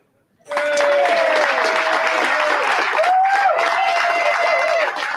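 A large comedy-show audience bursts into sustained applause with some cheering, loud and dense for about five seconds after a brief silent start, with voices calling out within the crowd.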